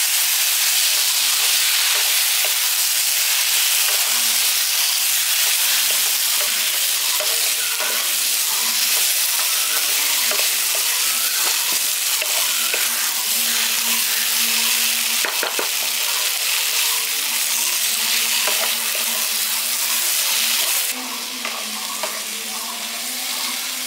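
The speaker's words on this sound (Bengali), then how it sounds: "এবার এঁচোড় আর আলুটা দিয়ে মশলাটার সঙ্গে খুব ভালো করে কষিয়ে নিচ্ছি।" Jackfruit and potato sautéing with spices in a pan, a steady loud sizzle with frying crackle and occasional scrapes of stirring throughout, no voices.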